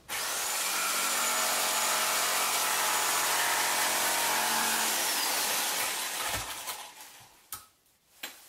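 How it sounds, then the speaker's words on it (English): A circular saw cuts a slot in wood for a saw table build, a loud steady whining rasp for about six seconds that winds down, followed by a few sharp knocks and clatter. "I need to cut a slot here."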